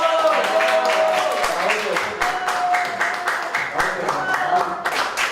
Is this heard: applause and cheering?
yes